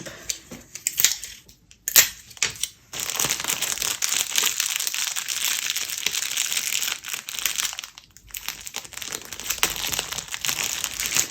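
Tape pulled and pressed around a small Halloween craft kit stuffed with polyester fill, giving crinkly, crackling tearing and rustling bursts that run almost steadily, close and alone with no talk.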